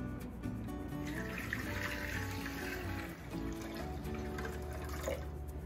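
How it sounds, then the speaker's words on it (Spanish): Tap water runs into a Thermomix TM6 bowl over eggs set for hard boiling, a steady close splashing flow with faint background hum. "Voy a cubrir con agua."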